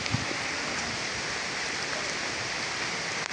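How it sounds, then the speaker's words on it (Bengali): Midday rain falls steadily outdoors in a muddy area, an even, continuous hiss with a few faint taps early on and no voices. "এই যে বৃষ্টি শুরু হয়েছে"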